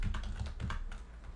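Keys clacking on a computer keyboard in a short burst of typing, several quick strokes in an irregular rhythm, close and fairly quiet with no talking.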